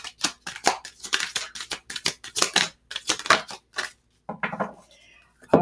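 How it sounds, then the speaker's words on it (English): A deck of tarot cards is shuffled by hand, producing quick, crisp bursts of card flicks in an uneven run, with a brief pause before a few more scattered riffles. "That was a really sloppy shuffle"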